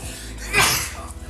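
A single sharp human sneeze bursts out midway, loud and close with a quick inhale before it, in a noisy live-stream setting at a gaming event.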